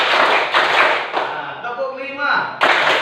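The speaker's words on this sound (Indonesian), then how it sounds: "Tepuk 1, tepuk 2, tepuk 3, tepuk 4," Students in a classroom clap together in a counted rhythm, a few sharp group claps separated by short pauses, with a voice talking between them.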